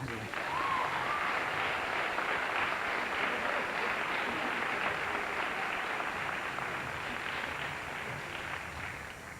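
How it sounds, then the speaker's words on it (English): A crowd at a high school jazz ensemble concert applauds in a long, steady, even roar of clapping that holds for several seconds and eases only slightly at the end, with no voices on top. "give them a round of applause."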